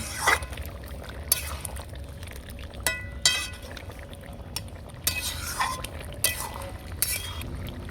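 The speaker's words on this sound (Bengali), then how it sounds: "আমি ঢাকা চাপা খুলে নেড়ে দেবো সবজি ভালোভাবে সেদ্ধ হয়ে গেছে ভালো করে নেড়ে নেব" A lid comes off a pan of cooked mixed vegetables for a Bengali katoa stalk dish with prawns, followed by several sharp metallic clinks and scraping from a spatula stirring against the pan, close up with no talking.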